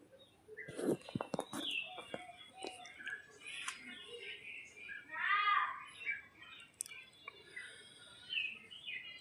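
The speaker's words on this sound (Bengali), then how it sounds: "এত সুন্দর পাখির আওয়াজ" Birds chirp and sing in a morning outdoor setting, with several short, high calls scattered across a few seconds and a brighter warbling burst midway, moderately near, over low background hum and faint voices.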